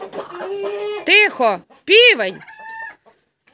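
A rooster lets out a few harsh, drawn-out clucking calls close by, with a person speaking briefly at the start.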